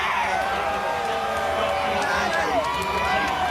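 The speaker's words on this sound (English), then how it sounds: "The fans applauding him." A racetrack crowd at the 2009 Kentucky Derby applauds and cheers a jockey, a steady roar of clapping and voices beneath someone talking over it.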